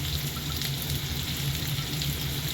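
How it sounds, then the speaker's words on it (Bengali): Chopped onion frying in hot oil in a kadahi, a steady dense sizzle running unbroken and fairly quiet for the whole stretch, with no voices. "আগে তেলটা গরম হতে দিই। প্রথমে কুচো পেঁয়াজ দিয়ে দিলাম,"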